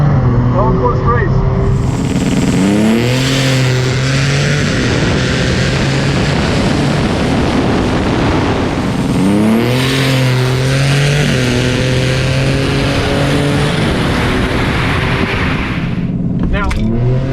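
Drag racing cars roar loudly down the strip at night, engine pitch rising sharply through repeated gear shifts, with someone commenting excitedly over the continuous noise.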